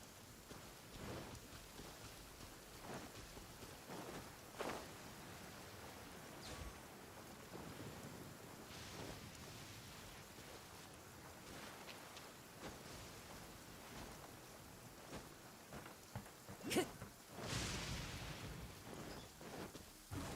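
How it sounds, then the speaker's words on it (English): Steady downpour in the video game Genshin Impact, in the Inazuma region, a soft continuous hiss of rain with a few louder bursts, including a sharp crack near the end, and no voices. "Taking a stroll in the middle of a downpour certainly rouses the spirit."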